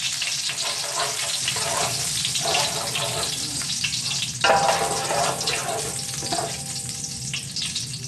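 Grated carrot and rice with cardamom roast in a pan for gajrela, giving a steady loud sizzle with scraping stirs and a brief louder burst midway.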